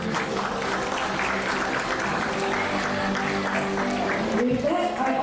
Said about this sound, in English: Let's give everyone here one big round of applause